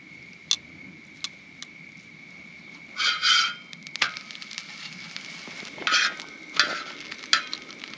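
Shrimp cooking over a campfire flame at a hilltop campground on Charleston crackle and pop in scattered bursts over a faint steady hiss, with a few sharper ticks now and then.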